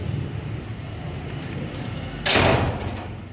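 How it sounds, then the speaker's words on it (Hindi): A house door swings shut with a single solid thud partway through, heard close and clearly over a quiet indoor background. "दरवाज़ा बंद करते हैं"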